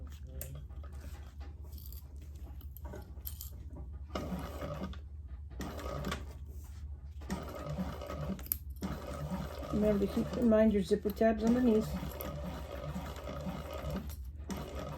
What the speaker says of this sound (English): we're going to sew that around at the seam allowance